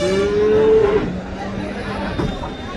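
A cow moos once, loud and close, with a long low call, at a busy cattle market where cows are being sold; crowd murmur and other livestock noise continue underneath throughout.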